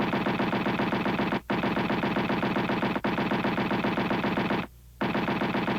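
Rapid, continuous bursts of 20-millimeter cannon fire during ground test firing, loud and close, with two brief breaks and a longer pause before the firing resumes.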